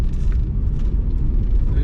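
A car's engine labours up a steep hill in second gear, a loud, rumbling drone that holds steady throughout while a person talks over it.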